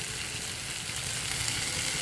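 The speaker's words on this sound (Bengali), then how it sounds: "এবার ভালো করে ভেজে নেব।" Food frying in a pan, a steady, close hiss and sizzle of hot oil with faint crackling, continuous and even with no talk.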